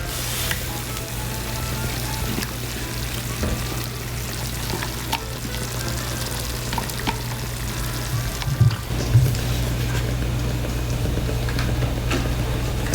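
Tomato puree pours into a hot pan of vegetables for a pasta Bolognese, a steady close sizzle and soft wet trickle carrying on with light stirring knocks and no talk.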